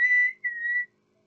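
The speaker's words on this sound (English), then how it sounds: "and then on Madame Hooch's whistle" A referee's whistle blows for the start of a Quidditch match: two clear, shrill blasts, the second a little longer, loud and close with silence after.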